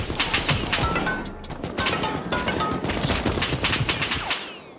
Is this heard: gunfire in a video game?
yes